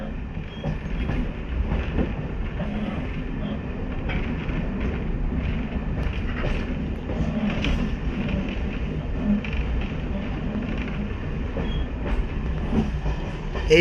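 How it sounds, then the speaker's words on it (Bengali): Passenger train rolling into a railway junction on a cold winter night, a steady loud rumble of wheels on track with faint rhythmic clatter throughout, no voices. "তো এখন ঢুকছে কালীনারায়ণপুর জংশনে দেখুন রাতের ভিউ"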